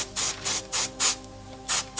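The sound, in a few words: airbrush spraying paint on a miniature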